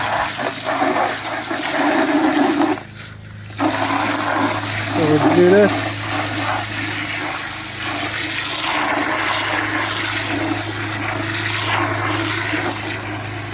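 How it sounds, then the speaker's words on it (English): Water gushes and splashes into a bucket during a Navien tankless water heater flush, a steady filling flow heard close up beneath a man's speech, with a brief interruption near the start. "we're going to fill the water up to not the top of the pump, but reasonably close"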